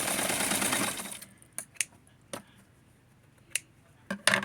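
A sewing machine runs in one loud, steady burst while stitching the neck area of a dress, then stops, leaving a few sharp clicks and taps spaced across the quiet.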